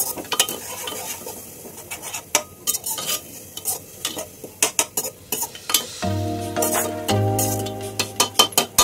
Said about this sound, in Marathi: यामध्ये मी टाकते आहे दही